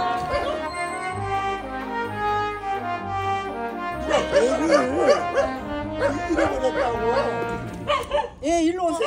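Puppies rescued from a dog farm yip, whimper and bark in a busy run of high, wavering cries, close and fairly loud, layered over a tonal background.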